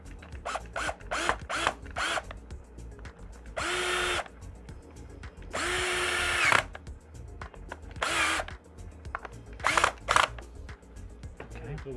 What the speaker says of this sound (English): I'll take my drill